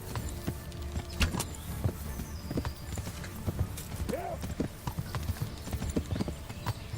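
Horse hooves clip-clopping as a rider travels mounted in the medieval video game Kingdom Come: Deliverance, a steady rhythmic trot of hoofbeats up close with game ambience and a brief whinny-like sound.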